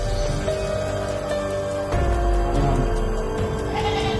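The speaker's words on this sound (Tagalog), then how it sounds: "ngayon ako nakarinig ng boses ng kambing" Bleating from a goat rises over a dense, noisy outdoor background, with a harmonic cry standing out partway through, fairly close.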